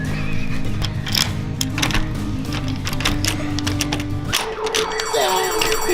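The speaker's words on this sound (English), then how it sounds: "Turn the alarm off, turn the alarm off." A house alarm blares loudly nearby with a sustained, wavering electronic tone that cuts off abruptly near the end, replaced by a shorter different beeping tone.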